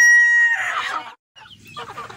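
A village rooster crows loudly up close, then after a short pause breaks into a run of rough clucks, with no talking over it.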